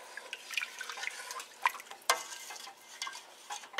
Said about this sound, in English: And give this a stir.